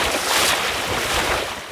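A sailing dinghy moving fast at four to five knots in hot, calm-weather cruising conditions, giving a steady close wash of water rushing along the hull mixed with wind buffeting the microphone, loud and continuous with no talking.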